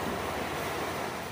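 Sea waves heard from a fishing spot at the shore: a steady, broad wash of surf noise, moderately faint, with wind and no talk.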